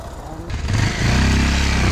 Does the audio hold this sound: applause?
no